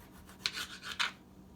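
A knife dicing a small tomato, making a few soft, rasping strokes in quick succession before it goes quiet, close and fairly faint.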